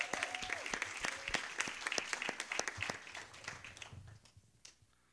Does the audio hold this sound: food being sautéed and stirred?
no